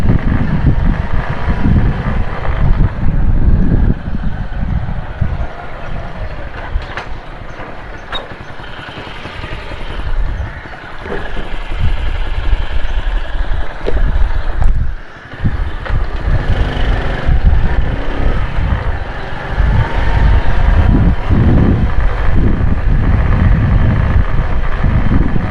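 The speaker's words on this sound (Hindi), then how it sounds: "आवाज़ें आना शुरू हो गई मोटरसाइकिल से।" Motorcycle engines run along a street in the Gulberg Federal B Area of Karachi, a continuous loud rumbling drone with passing vehicles and brief dips, no talk over it.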